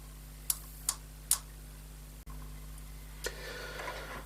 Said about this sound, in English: when I power this, you should hear a click